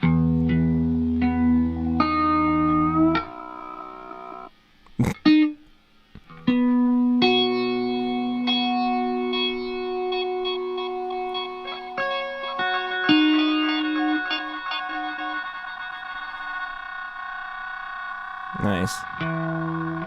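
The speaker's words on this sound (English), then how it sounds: "So mod B is where I have the stutter modifier." Synth patch run through a stutter modifier set to bounce and fall, giving sustained tonal notes with a sharp glitchy break near five seconds and choppy, bouncing repeats; loud and close, with no talking.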